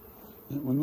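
Honeybees buzzing briefly during an inspection of hive frames holding brood, a short close hum that swells louder partway through.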